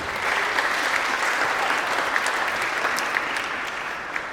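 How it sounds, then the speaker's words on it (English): Steady applause from a graduation ceremony crowd at a school auditorium, dense continuous clapping filling the room at even loudness with a few sharper claps standing out, no voices over it. "Give yourself a round of applause."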